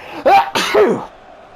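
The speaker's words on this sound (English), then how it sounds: "that sneeze took far too long to leave my system" A loud, close human sneeze in two forceful bursts, a sharp intake then an explosive release, followed by a quieter trailing breath with no words spoken.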